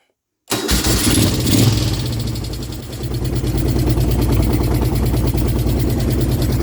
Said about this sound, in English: let's see if she's gonna fire right up here